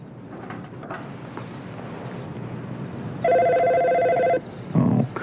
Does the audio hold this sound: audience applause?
no